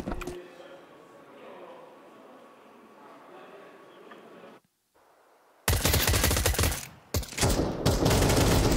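A Counter-Strike match on the Inferno map, with USP pistol shots cracking in loud, rapid bursts as the action heats up, following a stretch of commentators talking over quieter game sounds.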